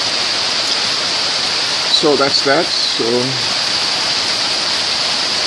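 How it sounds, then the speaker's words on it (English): Heavy stormy rain pours down steadily as a dense, even hiss that fills the whole stretch, while someone speaks briefly over it partway through. "we needed the rain, so I can't complain"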